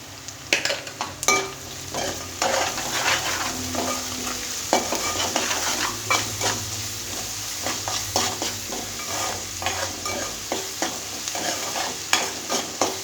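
Onions sizzle and fry in a pan for egg curry while a utensil scrapes and stirs them in a steady, close rhythm of repeated strokes over continuous frying hiss.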